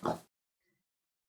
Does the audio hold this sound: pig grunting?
yes